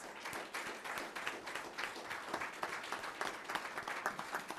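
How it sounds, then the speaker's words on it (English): Audience at a North Branford town council candidates' forum gives a round of applause, a steady dense patter of many hands clapping at moderate distance for several seconds. "I do ask if everybody in the audience would give a round of applause to our candidates."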